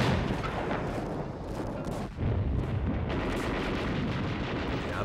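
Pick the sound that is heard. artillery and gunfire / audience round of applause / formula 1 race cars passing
artillery and gunfire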